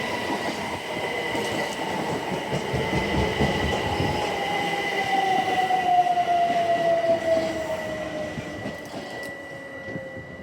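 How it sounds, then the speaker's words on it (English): A train rumbles in and slows, wheels rolling and squealing with a rising metallic whine, loud and close, no voices. "So let's watch as this train comes in."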